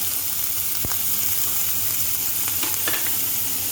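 Onion fries in hot oil in a pan, a dense close sizzle with a few sharp clinks and scrapes, no speech over it.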